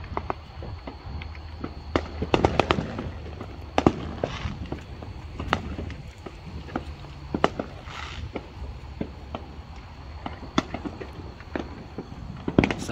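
Fireworks going off around a residential neighborhood, a scattered series of sharp bangs and pops at varying distances, some near and loud, others faint and far, over a constant background hum with no talk.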